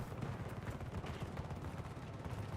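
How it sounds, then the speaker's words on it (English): Dense, continuous gunfire from a Call of Duty match, rapid overlapping shots and bursts forming a steady loud barrage with no pauses. "I'm hearing a lot of gunfire behind me."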